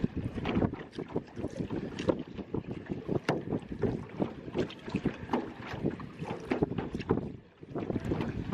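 A small new boat out on the water during island hopping near Boracay, with steady wind buffeting the microphone and water noise running throughout at close range.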